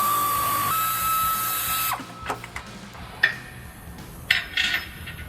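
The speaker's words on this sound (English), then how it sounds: "so use a 3/8 air ratchet" A 3/8 air ratchet removes rear lower control arm bolts on a 2005-2014 Mustang in a shop, whirring steadily for about two seconds, then giving way to clinks and clatter of tools and metal parts.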